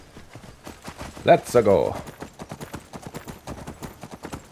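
Horse hooves clip-clopping in a steady rhythm while riding in the Skyrim video game, heavily modded, running under a voice that talks briefly near the middle.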